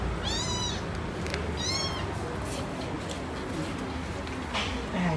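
A pet cat meows twice in quick succession, close and clear, rising and falling, against a steady background of room noise and faint activity, with a brief soft sound near the end.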